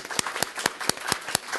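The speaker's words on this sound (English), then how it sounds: "we want to give you a round of applause because that was a wonderful presentation" Applause after a presentation at a school district meeting, heard as sharp, evenly spaced claps in a steady rhythm, close and moderately loud.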